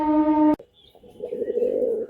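Laldom and Giribaz pigeons make soft, low cooing sounds after a brief electronic tone at the start, a quiet, close burble of cooing that lasts about a second and a half.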